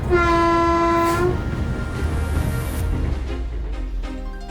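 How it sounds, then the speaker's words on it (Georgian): A train on the rails sounds a loud sustained horn blast, then keeps rumbling past with rolling wheel noise and a shorter horn call near the end. "სანამ ლიანდაგებზე მატარებლის ხმა ისმის"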